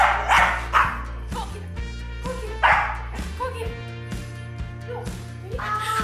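A puppy barking in a home during a Christmas hide-and-seek game, several sharp yips and barks in quick bursts, close and loud, with faint human voices in the background.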